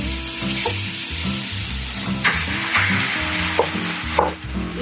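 Ground turkey sizzles steadily as it sautés in a hot pan for a lasagna, with occasional scrape-and-stir knocks over the constant frying hiss.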